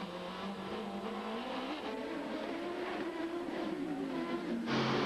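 A Porsche race car at the Long Beach Grand Prix street circuit roars past, its engine tone climbing and shifting through a steady, loud drone, with a sudden change in pitch near the end.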